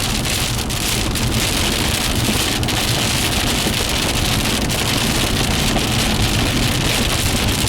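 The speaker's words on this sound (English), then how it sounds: "Well, we found the rain." Heavy rain pours down steadily during a storm, a dense, constant hiss of drops drumming on surfaces with some wind buffeting the microphone, close and loud throughout with no voices.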